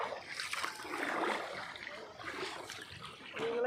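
Cauvery river water rushing at Hogenakkal waterfalls in India, a steady broadband roar of churning, splashing water heard from nearby with a few faint voices in the background.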